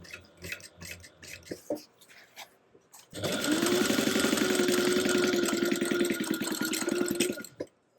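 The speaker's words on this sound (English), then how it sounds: "we're going to go ahead and sew up the other side" A sewing machine runs steadily for about four seconds, stitching the second side of a plush toy with a quarter-inch seam allowance, after some quieter handling noises and before stopping abruptly.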